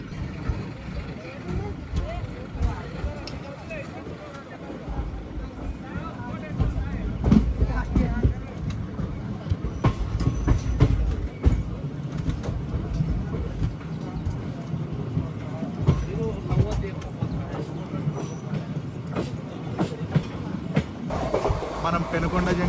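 A passenger train on the Kakinada to Mysore special run, heard from inside as it rolls steadily past Penukonda junction without stopping, with a continuous rumble and intermittent rail clatter while someone talks throughout.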